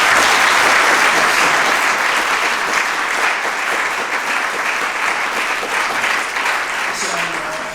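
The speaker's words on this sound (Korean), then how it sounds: "박수로 환영해 주시기 바랍니다." Loud, dense applause from wedding guests welcoming a newly declared married couple at a church wedding ceremony, continuous and filling the room, tapering slightly toward the end.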